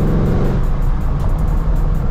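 A Shelby GT500 engine roars loud and close throughout a short acceleration, a dense, steady growl with no break and no voices.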